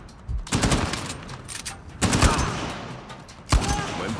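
Gunfire in the Uncharted 4 video game, with several loud bursts of rapid shots and echoing booms over about four seconds, mixed with game sound effects.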